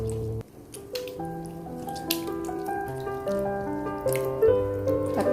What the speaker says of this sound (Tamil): இந்த புளி தண்ணியில் 2 தக்காளியை நல்லா அப்படி மேஷ் பண்ணி விட்டுக்கோங்க